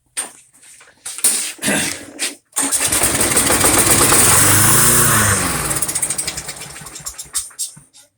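Briggs & Stratton engine on a Craftsman lawn mower, run on primer-pumped fuel after storage: a few pull-start tugs, then the engine catches and roars for about three seconds before sputtering and dying out.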